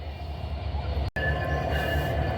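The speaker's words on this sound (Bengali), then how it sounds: "আটশো সাতাশ রূপসী বাংলা এক্সপ্রেস পুশব্যাক করে পিছনে নিয়ে যাওয়া হচ্ছে" Ruposhi Bangla Express, train 827 from Benapole to Dhaka, is pushed back toward platform one, giving a steady close rolling rumble of wagons with a faint wheel squeal and a brief cut in the sound.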